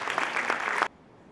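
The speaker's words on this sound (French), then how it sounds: "sous vos applaudissements, s'il vous plaît." A ceremony audience applauds to welcome the mayor at a signing event in Le Moule, France. A brief, dense burst of clapping cuts off abruptly after under a second.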